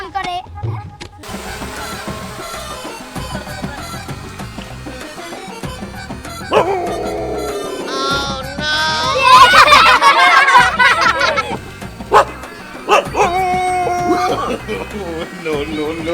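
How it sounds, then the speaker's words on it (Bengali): Dogs in a rice paddy field bark and yip in short bursts amid background music, some calls whining and excited, at moderate distance. "ওই দেখ দেখ ধান খেতে কুত্তা"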